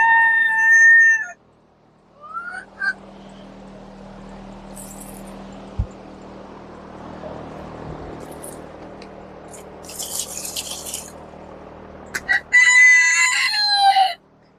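In a backyard coop, chickens cluck in short bursts and a rooster crows loudly at the start and again near the end, with quieter drips and scratching between the calls.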